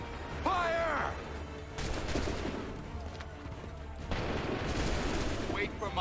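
Musket volley fired on command in Assassin's Creed 3, several bursts of massed gunfire over about six seconds, with a shouted order at the start and a steady noisy battle din underneath.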